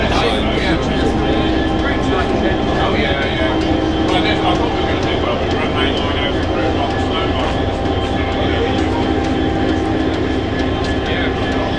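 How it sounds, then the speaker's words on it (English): A Class 66 diesel locomotive, 66108, hauls a passenger rail tour, a steady loud rumble and drone of engine and wheels heard from on board, with talking over it. "Very rare having a 66 pulling a passenger train"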